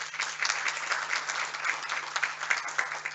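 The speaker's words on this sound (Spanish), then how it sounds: "un gran aplauso para todos ellos" A hall audience at an academic thesis award ceremony gives sustained applause, dense overlapping claps at a steady moderate level, with no one speaking over it.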